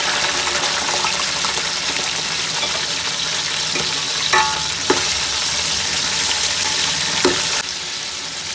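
Chicken pieces with garam masala sizzle steadily in a hot pan, a continuous close frying hiss broken by a few soft stirring scrapes, with no voices.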